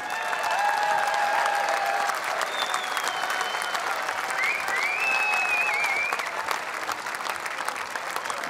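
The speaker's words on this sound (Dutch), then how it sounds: "Geef ze een groot applaus" Sustained, dense applause from a large crowd cheering the champions at the Dutch national fierljeppen championship, loud and continuous with a few whistles cutting through.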